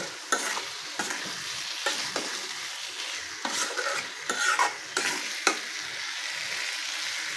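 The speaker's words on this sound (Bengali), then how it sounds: "এখন আমি ভেজে রাখা পটলগুলো দিয়ে দেবো। এবার নেড়ে চেড়ে মশলার সাথে মিশিয়ে নেব।" Fried pointed gourd is stirred into a sizzling spice paste in a pan, with soft scrapes and knocks of a spatula in a steady rhythm over a continuous fry hiss, close and fairly quiet.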